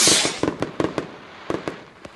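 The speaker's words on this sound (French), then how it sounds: "ça fait des feux d'artifice jaunes" Yellow fireworks launching in the Roblox game Brookhaven RP: a burst of hiss, then a string of sharp crackling pops at an irregular rhythm, fairly loud and close, with no talking.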